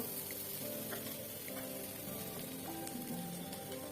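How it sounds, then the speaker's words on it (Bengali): Vermicelli fries with coconut for Bengali sweet zarda semai, producing a faint, continuous sizzle with light stirring scrapes underneath, steady throughout and without speech. "এটা নারিকেল দিয়ে ভেজে নিব।"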